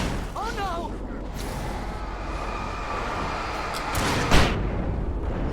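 Flashbang going off in the video game Alan Wake Remastered, a loud deep blast with a rumbling, ringing aftermath amid dense in-game noise, with a short burst of voice near the start.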